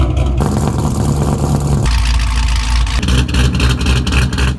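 A Lamborghini Aventador engine fitted with big camshafts idles with a lumpy, choppy rumble, loud and close, its tone shifting in distinct stretches with no voices over it.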